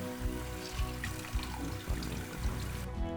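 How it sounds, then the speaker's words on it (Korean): Spring cabbage is shaken and rinsed in cold water, a faint watery sloshing with soft rhythmic splashes roughly every half second. "봄동이 완전히 차게 식을 정도로 찬물에다가 흔들어서 헹구다가 건지시면 되고요."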